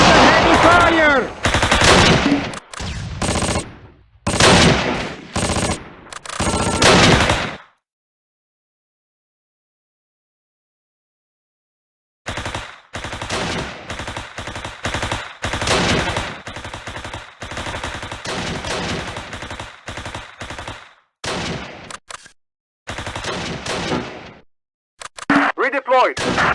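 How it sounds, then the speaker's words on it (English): Heavy gunfire from the Close Combat war game crackles in dense bursts of machine-gun and rifle fire, broken by a long silent gap before the shooting resumes. Brief game voice callouts are mixed in. "Heavy fire!"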